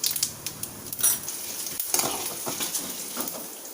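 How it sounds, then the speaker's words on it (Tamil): Mustard seeds, chana dal and urad dal tempering in hot oil for a Tamil banana stem stir-fry, giving a soft, steady sizzle with scattered crackles, pops and light spoon clinks close by. "எப்போவும் எல்லாம் தாளிக்கிற மாதிரி கொஞ்சம் கடுகு கடலைப்பருப்பு உளுந்து போட்டு தாளிச்சுக்கோங்க."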